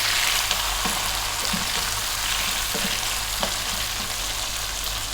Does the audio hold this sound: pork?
yes